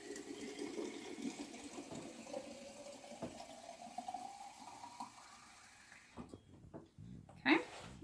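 Plain tap water pours from a jar into a pan with a steady running trickle that rises in pitch as it fills, then stops, followed by a few knocks and clinks in a kitchen.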